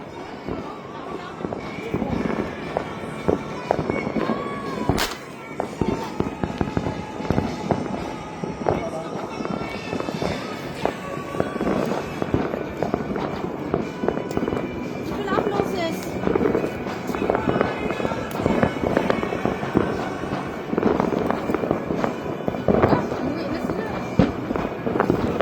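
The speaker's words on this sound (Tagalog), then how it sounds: "Nagpaputok siguro sila sa labas." Fireworks and firecrackers going off outside, a dense continuous stream of sharp pops and crackles over about twenty-five seconds, with voices and movement nearby.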